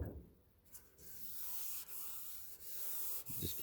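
Wet sanding on a car body panel of a 1967 Pontiac GTO, close steady rubbing strokes with brief pauses between passes, a soft continuous scratchy swish.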